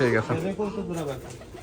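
Giribaz high-flier pigeons on a large breeding farm give a run of low, wavering coos close by, several overlapping calls falling in pitch, with a voice talking faintly in the background.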